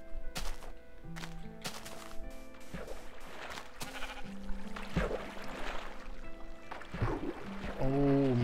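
Sheep in the video game Minecraft bleat several times, short wavering cries spaced apart over quiet background game sounds, the last one louder and closer.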